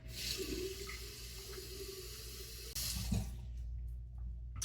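A bathroom tap runs steadily to rinse a straight razor after a shave, a broad close hiss of water that briefly swells and splashes before it is shut off near the end.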